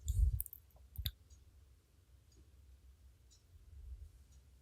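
Mouse clicks on a computer while working in After Effects: a couple of sharp, close clicks near the start, then only faint low background noise.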